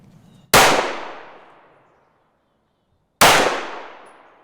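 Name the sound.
compact handgun shots firing 124 grain Hornady Critical Defense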